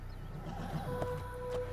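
A faint horse whinny sounds in Assassin's Creed on PC, low in the mix with soft game ambience and no talking.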